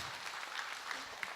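Audience applause at a Korean Buddhist monk's question-and-answer dharma talk, a steady, fairly faint patter of clapping with no voices over it.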